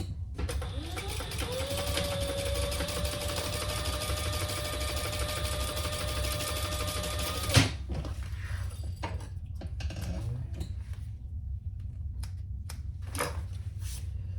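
A sewing machine runs steadily, top stitching a crossbody bag in one continuous whirring pass of about seven seconds, then stops with a clunk, followed by scattered handling clicks.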